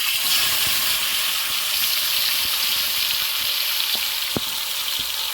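Marinated chicken pieces fry in ghee with a loud, steady sizzle and hiss. A few faint clicks and taps break in now and then.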